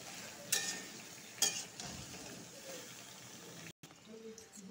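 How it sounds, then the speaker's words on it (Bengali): Salted pointed gourd pieces fry in ghee, making a soft, continuous sizzle broken by two sharp utensil clinks and a brief drop-out near the end. "এখন ভালো করে ভেজে নিব।"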